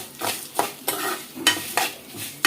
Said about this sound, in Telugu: చక్కగా కలుపుకుంటూ సిమ్లోనే వేపుకుందామండి